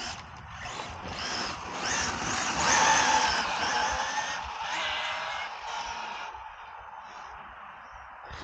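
Team Associated SR7 RC car drifting and accelerating, a whining high-pitched motor swelling and fading with tire scrubbing, fairly close, tapering off toward the end.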